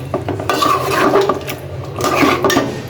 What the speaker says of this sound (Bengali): এটাকে আমি ভালোভাবে কষিয়ে নিব।